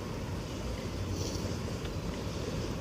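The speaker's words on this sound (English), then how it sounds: "The boat is moving fast." A continuous low rumble of water and engine, like a boat speeding across the surface, with wind buffeting the microphone.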